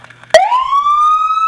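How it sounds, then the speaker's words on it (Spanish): Police siren on an Alpine Armoring Harley Davidson law enforcement motorcycle, switching on with a sharp burst and then a loud, steady rising wail close by. "Apretar este botón para la sirena policial."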